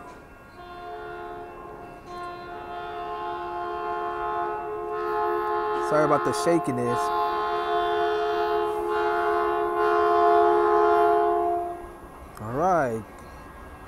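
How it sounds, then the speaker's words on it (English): Northbound Caltrain 515 to San Francisco, a gallery-car passenger set, sounds long sustained horn blasts while rumbling through Menlo Park station, close and loud, with a short warbling tone near the end and a person speaking briefly. "approaching Caltrain 515 to San Francisco coming. Northbound at Menlo Park Station"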